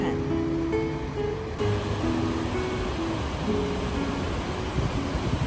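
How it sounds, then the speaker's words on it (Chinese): Gullfoss waterfall in Iceland in April, water plunging into its canyon, makes a constant broad roar heard close up from a viewing point, with faint voices in the background. "可以近距离看到瀑布飞流直下进入的峡谷，非常震撼"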